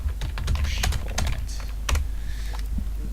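Rapid clicking of computer keyboard keys while typing a short note onto a map in the dungeon game Legend of Grimrock, a steady, close patter of keystrokes with no talk.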